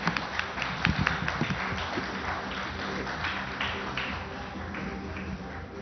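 A conference audience applauds guests and panelists returning to the stage at a workplace happiness summit and awards event, steady sustained clapping from a sizable crowd, moderately loud, with a few sharper claps near the start.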